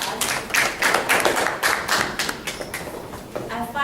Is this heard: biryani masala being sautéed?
no